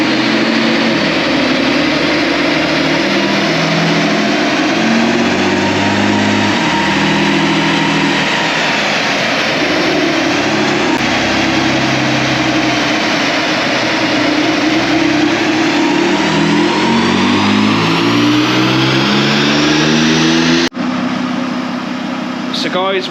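A remapped Peugeot 407 Coupe 3.0 HDi diesel revving on a run, loud and sustained, its engine note climbing and falling repeatedly in long sweeps before a brief cutoff near the end.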